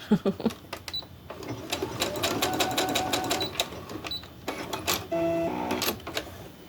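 A sewing machine stitching a Y seam in a crumb-pieced quilt, its motor whirring in a steady run for several seconds between brief starts and stops, close and fairly quiet with no talk.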